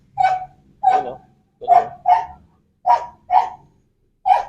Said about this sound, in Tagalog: Ingin ng aso.